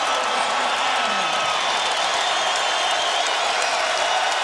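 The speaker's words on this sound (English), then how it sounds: "That gets this crowd back into it." A sellout basketball crowd at Hilton Coliseum roars and cheers after a home dunk, a dense, loud wash of voices and applause that stays steady throughout.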